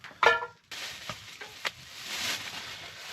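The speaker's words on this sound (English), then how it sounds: "Alright, got the butter in the pan." Butter melting in a pan on a stove inside a hot tent during snowy alpine camping, with a few short scrapes and knocks, then a soft, steady sizzling hiss that builds gently.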